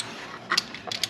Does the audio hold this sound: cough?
no